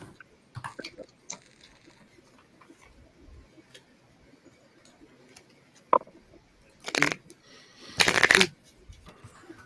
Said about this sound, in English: We'll be shuffling. Hear the shuffle.